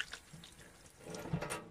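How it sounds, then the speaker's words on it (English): Running kitchen tap water splashing as hands are rinsed at a sink, a soft steady stream with small splashes, heard alone at close range. "Just rinse my hands."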